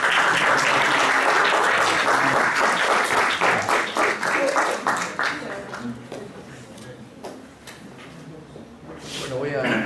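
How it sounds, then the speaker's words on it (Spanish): Audience applause at a talk about a scientist who became a businesswoman, a dense, sustained clatter of many hands that stays loud for several seconds, then thins and wavers before swelling again at the end. "Un aplauso para el padre."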